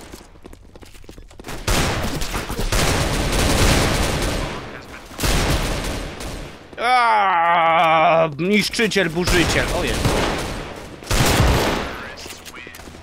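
Sawed-off shotgun blasts from a Roblox game fire in dense, rapid volleys, loud and repeated, mixed with game noise while someone talks excitedly over them.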